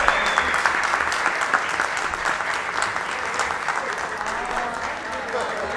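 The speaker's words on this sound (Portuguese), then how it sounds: "que todos nós, vereadores, aplaudissem esses servidores e que todos os servidores desta casa se sintam aplaudidos" A municipal council chamber bursts into sustained applause for its staff, dense steady clapping from many hands that carries on throughout with voices faintly mixed in.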